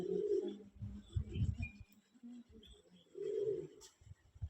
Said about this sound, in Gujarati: આ કબૂતર બીમાર છે, જાતે ખાઈ શકતું નથી